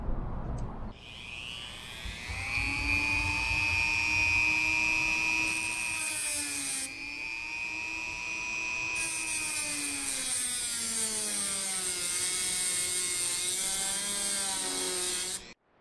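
A power cutting tool works steadily through an aircraft hinge pin during a wooden aircraft build, a sustained whining drone whose pitch shifts as the cut progresses, with no talking.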